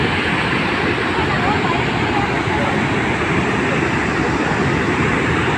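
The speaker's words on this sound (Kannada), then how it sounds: "ನೀರು ಬೀಳೋ ರಭಸಕ್ಕೆ ಈ ಥರ ಹೇಳ್ತಾ ಇದೆ" Unchalli waterfall thundering down, a dense, constant roar of crashing water, close and loud throughout with no breaks.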